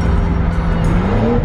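Car engine under load with a steady low rumble and rising harmonic as it revs near the microphone; distinct backfire pops on the downshift are not clearly separable from the constant engine roar.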